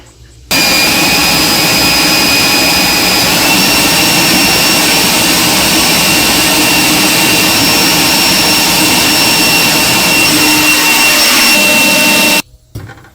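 An electric Toro leaf blower runs at full blast with a loud, steady, close-up roar and whine that starts abruptly and holds for about twelve seconds before cutting off.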